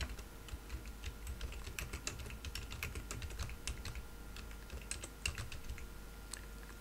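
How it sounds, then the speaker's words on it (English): Quick, quiet keystrokes on a computer keyboard as a name is typed, clicking in irregular bursts close to the microphone with no talking. "here we'll type a name for the database"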